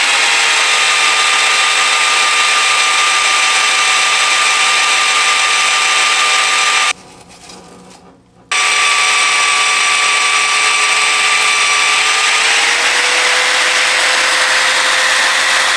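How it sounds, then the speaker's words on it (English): A 1-inch annular cutter bores through 3/8-inch steel plate with a loud, steady, high-pitched whine that cuts out for about a second midway, then resumes and shifts slightly lower toward the end. "Let's grab this and try out that annular cutter."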